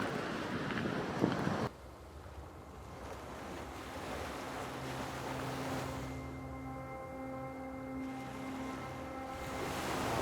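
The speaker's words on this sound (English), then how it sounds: "Do you feel the wind blowing through that thing?" Strong wind gusts around a large rock on a cold, snowy stretch in Chile, a steady broadband roar with a louder buffeting burst near the start, then a constant rush with faint low tonal hum behind it.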